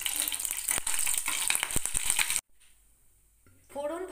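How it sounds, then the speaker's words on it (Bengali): Tempering spices fry in hot oil over a full gas flame with a loud, dense crackling sizzle for about two seconds. The sizzle cuts off to near silence, and then a voice speaks. "গ্যাসের ফ্লেমটাকে ফুল করে দিয়েছি ফোড়নটা ভেজে নেওয়ার জন্য।"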